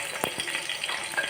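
Garlic frying in hot oil in a pan on the stove, a steady soft sizzle with a few brief stirring scrapes and clicks, fairly quiet and close, no voices.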